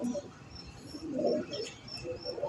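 Pigeons, a racing breeder flock kept by a pigeon fancier in the UAE, coo softly at moderate distance in short murmuring phrases, with faint chirps and background noise and no one speaking.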